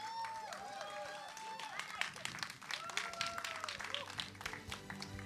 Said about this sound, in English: A big round of applause for the trailer